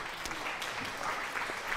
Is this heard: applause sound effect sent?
yes